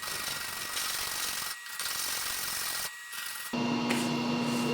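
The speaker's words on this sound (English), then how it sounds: "now I'm going to use a rasp to see if I can smooth all that down" A hand rasp scrapes over glued wood, smoothing a repaired joint in steady back-and-forth strokes with brief pauses between passes, close and alone.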